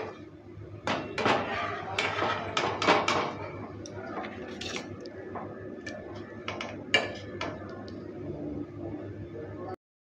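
A spatula repeatedly clicks and clatters against a frying pan while fried jhuri bhaja is turned and lifted out, giving a busy run of close, light metallic taps over a faint steady background.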